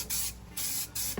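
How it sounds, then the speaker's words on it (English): Adhesive glue hisses from a spray can onto a car floorboard in three short, close bursts separated by brief pauses. "So we want to go ahead and spray this out."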